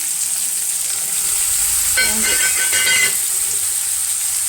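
Mustard seeds popping and sliced onions frying in hot oil, a loud, close, continuous sizzle and hiss with a brief burst of spattering and stirring midway.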